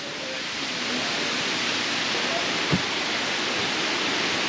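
A waterfall in Laos roars as a loud, steady wash of rushing water, with a brief faint thump partway through.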